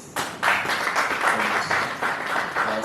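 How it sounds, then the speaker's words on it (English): Clapping by an audience at a lecture event, a moderate, fairly close crowd of hands with a pulsing, rhythmic feel, steady for a few seconds. "let's clap for our lecturers"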